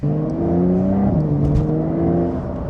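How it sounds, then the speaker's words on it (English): A Porsche 911 engine with sport exhaust drones loud and close with a steady, throaty exhaust note, pitch shifting slightly as it revs in sport mode, with no voices. "definitely sounds louder now that the sport exhaust system is on"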